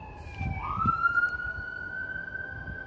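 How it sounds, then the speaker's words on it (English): An emergency vehicle siren wails faintly in the distance outdoors, a steady tone that climbs briefly and then holds, continuing behind low background noise. "You hear the siren in the background?"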